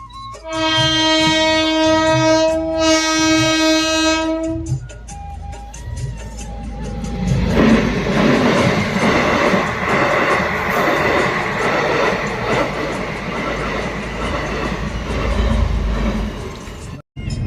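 A train horn sounds in two long blasts, then a train rumbles and clatters past close by at a railway crossing, loud and steady until the end.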